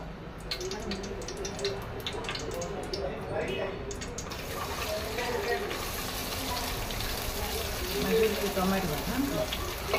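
Chopped onions frying in melted ghee for a Konkani mutton curry, a steady close sizzle and crackle running throughout, with some talk heard over it.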